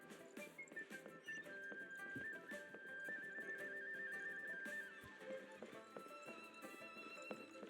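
In Genshin Impact, a horse clip-clops with soft repeated hoofbeats while a sustained whistle-like musical tone hangs over the quiet game soundtrack, the whole scene low in level with no speech.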